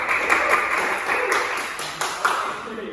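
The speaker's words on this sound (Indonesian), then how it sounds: "Tepuk tangan untuk Murah." A classroom of students applauds a classmate during a microteaching lesson, a steady patter of many hands clapping at moderate volume across the whole span, with some louder individual claps and faint voices mixed in.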